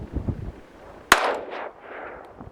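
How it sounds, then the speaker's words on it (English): A single sharp shot from a Smith & Wesson M&P 5.7 pistol cracks out loudly midway, with a ringing echo trailing off after it and some low handling noise before. "So let's put some rounds down range and see what it looks like."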